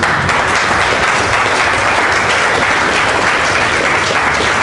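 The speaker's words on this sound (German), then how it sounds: "Applaus" Loud, dense applause from an audience at a talk by a juvenile court judge at a German Hemp Association event, a continuous roar of clapping throughout with no distinct voices.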